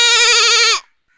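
Someone mimics a goat's bleat in one loud, quavering call lasting under a second, which cuts off sharply into silence.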